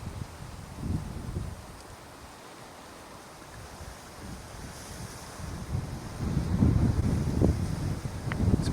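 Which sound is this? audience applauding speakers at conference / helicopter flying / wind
wind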